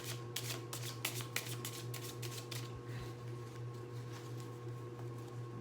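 Advice cards being shuffled close up, a quick run of crisp riffling flutters over a steady low hum, with no voices.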